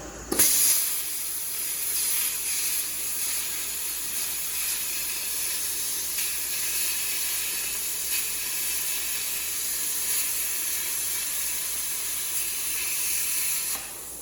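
A plasma cutter hisses loudly and continuously as it cuts through metal, opening with a sharp burst and holding a steady, close, rushing roar for over ten seconds.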